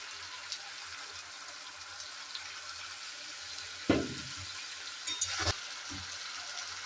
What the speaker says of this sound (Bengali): আর কিছুক্ষণ কষাবো। গরম মশলাটা দিয়ে দিলাম।